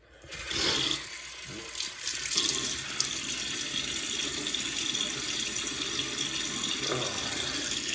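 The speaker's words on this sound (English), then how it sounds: "let me get my face wet" Tap water runs steadily into a bathroom sink to wet a face before a shave, a close, constant splashing flow that starts abruptly and continues unbroken with no speech.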